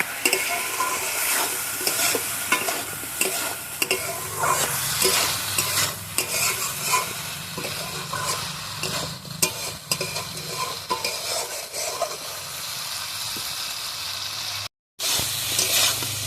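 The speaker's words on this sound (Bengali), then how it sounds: "এবার আমি টমেটো কুচিটা দিয়ে দেবো, দিয়ে একসাথে ভালোভাবে কষিয়ে নেবো।" Chopped tomato, potatoes and river gule fish curry sauté in a pan, a spatula stirring and scraping repeatedly through steady frying sizzle, close and continuous, with a brief cutout near the end and no talking.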